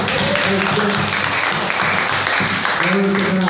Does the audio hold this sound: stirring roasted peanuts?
no